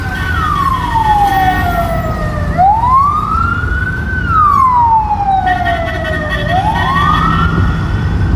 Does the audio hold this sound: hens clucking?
no